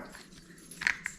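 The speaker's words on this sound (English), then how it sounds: "Comes complete with barking dog." A dog gives a brief, sharp bark or yelp near the end, at moderate distance. It is a single quick burst with quiet room tone around it.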